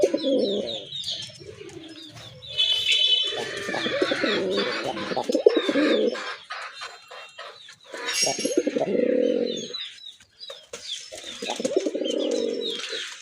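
Native deshi pigeons offered for sale coo in low, throaty, rolling phrases close by, several birds overlapping in repeated bursts with brief pauses between.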